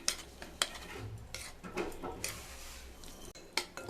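A spoon stirring semolina batter with sour curd and water in a bowl, with uneven scraping clinks and knocks against the bowl repeating irregularly, close and clear, with no talking.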